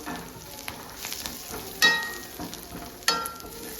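Curry leaves and chili powder sizzling in hot oil for a Kerala-style banana stem dish, a steady faint crackle broken by two sharp metallic clinks of stirring, with no voices.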